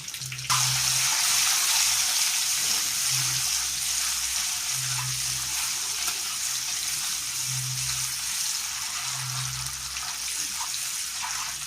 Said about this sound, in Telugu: నూనె ఇంకొంచెం వేడిగా అయిన తర్వాత అందులో మనం ముందుగా ఉడకబెట్టుకున్న గుడ్లను ఒక్కొక్కటిగా ఇలా వేసుకోవాలి